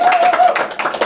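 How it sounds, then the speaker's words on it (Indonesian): Audience applause breaks out at an Indonesian live talk show taping as the host welcomes a guest, a short dense burst of clapping from a studio crowd, loud and close, with a voice speaking over it. "tepuk tangan teman-teman"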